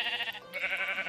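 A Minecraft sheep gives a short, close bleat with a wavering, nasal tone, heard twice in quick succession with a brief dip between the two calls.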